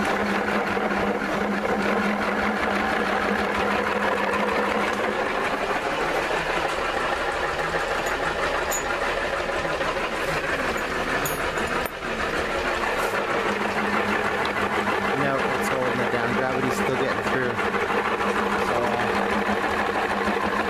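An RCF 5000 Genset II machine runs continuously, producing a loud, steady mechanical drone with a rapid rhythmic chatter, close and unbroken for the full stretch.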